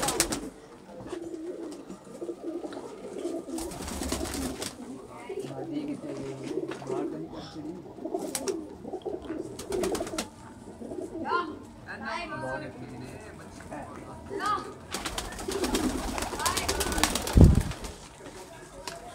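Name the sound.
pigeons cooing and flapping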